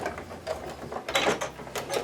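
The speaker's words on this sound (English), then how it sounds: "So I'm going to sew all the way to the end, and I'm going to reinforce that a little bit" Sewing machine stitching a canvas apron to the end of a seam, a steady close mechanical whirring with rapid ticking needle strokes and a few louder clattering bursts, no voices.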